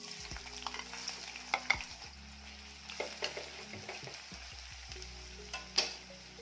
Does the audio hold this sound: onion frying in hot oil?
yes